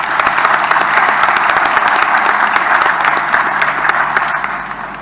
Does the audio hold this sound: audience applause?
yes